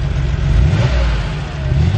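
A classic Porsche engine revs hard and steadily up close as the car pulls away, a loud, continuous mid-pitched growl with no talk over it.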